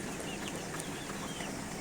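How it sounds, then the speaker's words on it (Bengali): White roaster chickens, part of a flock of around two thousand, cluck steadily on a farm, a dense continuous flock murmur with soft overlapping calls and no talking. "এই দেখেন সাদা সাদা মুরগি কতগুলা, 2000 মুরগি উঠিয়েছিল।"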